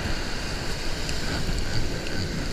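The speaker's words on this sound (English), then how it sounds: "wind's just pushing everything back" Strong wind on an ocean beach during surf fishing, a continuous roaring gust buffeting the microphone over crashing surf, loud and close with no talk.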